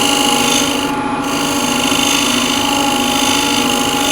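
A skew chisel scrapes and cuts a yew wood box turning on a lathe, a steady close rasping hiss over the spinning hum, continuous and alone.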